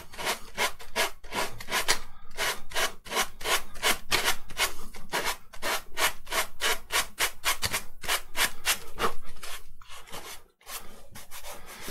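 Steady back-and-forth scraping of sandpaper over cardboard, a brisk rhythmic rasp of many strokes, close and loud, with no talking.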